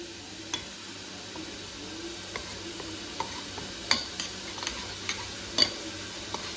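A spoon whisking a gram flour (besan) batter in a home kitchen, faint soft scraping with irregular light clicks of metal against the bowl, quiet and close with no talking.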